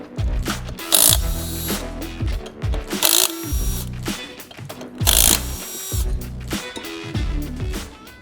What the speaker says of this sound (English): you're gonna want a nice cordless impact or a pneumatic impact to be able to get those off